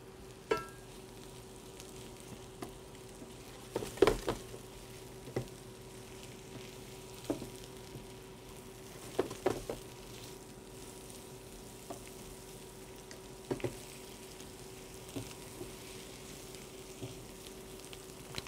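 Mushrooms browning in a hot pan for chicken Marsala, a steady low sizzle with a faint continuous hum and occasional sharp clinks and scrapes of stirring, no talking.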